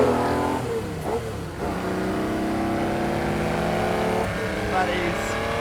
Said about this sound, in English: I will now demonstrate to you a real engine noise.